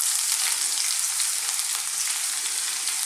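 Garlic and ginger sizzle steadily in hot oil over a lively high heat for an Indian aloo keema of minced beef and potato, a close, bright, continuous frying hiss with no voices.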